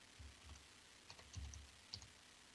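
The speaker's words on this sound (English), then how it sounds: "I'm typing right here" Close, quiet keyboard typing, a few scattered key clicks and short bursts tapped out on a computer keyboard at an uneven pace, with no voice.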